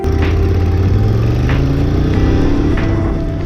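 A motorcycle cruising along a country road between Fitzroy Falls and Kangaroo Valley, giving a loud, steady engine drone with a low rumble and a constant, even pitch throughout.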